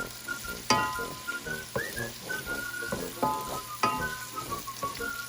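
Fresh chopped garlic, about four cloves, stir-fried in a pan for fried rice with luncheon meat and potato, sizzling steadily up close while a spatula clacks and scrapes against the pan every second or so, with no talk.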